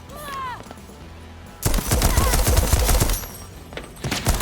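Gunfire in the Deathloop video game, a sniper rifle and rapid loud shots erupting in a dense burst after a quieter stretch with a sweeping tone, followed by a few more close cracks.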